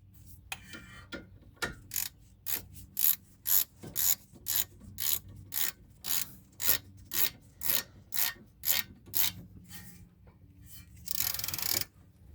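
Ratchet loosening brake caliper bracket bolts on a Honda Odyssey during front brake work, a series of about twenty evenly spaced clicking strokes up close, ending in a faster burst.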